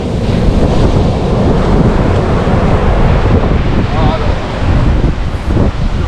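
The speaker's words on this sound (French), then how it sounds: "Ils sont énormes, les vagues." Large ocean waves breaking in Iceland, a loud, continuous roar of surf mixed with heavy wind buffeting the microphone, close and unbroken, with faint voices now and then.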